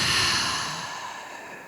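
One long exhale out through the mouth in a guided breathing exercise at a live event, a breathy sigh that starts fuller and slowly tapers over under two seconds, close and without talk.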